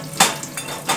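A few sharp clinks of dishes knocking together, spaced irregularly over a steady background hum, like washing up in a nearby sink.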